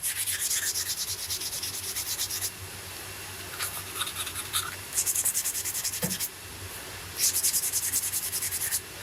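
The limb of a traditional recurve bow is smoothed with sandpaper in a series of rhythmic, scratchy rubbing strokes that come in short bursts with brief pauses, close up and with no talking.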